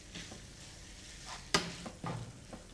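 Food roasting in a pan on a cooking show, a soft steady sizzle broken by stirring scrapes and one sharp clack of a utensil, close and quiet.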